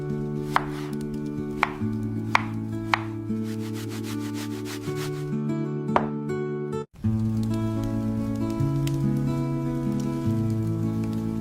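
Fresh vegetables for a pizza topping (capsicum, onion, tomato) are chopped with a knife: a handful of sharp, separate chops land irregularly beneath loud, continuous music.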